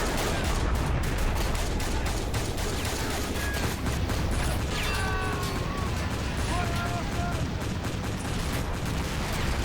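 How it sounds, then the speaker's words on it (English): Dense, continuous gunfire and distant booms fill a trench battle in the Army Men video game. The shots crackle in overlapping bursts under a constant loud din, with occasional whistling streaks. "At least they're getting some shots off now, look."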